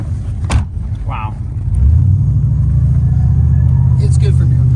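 An LS V8-swapped Mercedes 190E rumbles into a burnout, its deep engine note rising and holding steady and loud after brief voices at the start.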